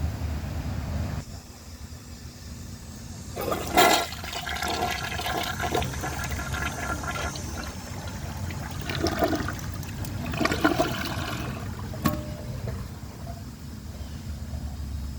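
A Mansfield Summit toilet with a full tank flushes sand in a long, loud rushing flush, followed by steady water running and gurgling as the bowl drains and the tank refills.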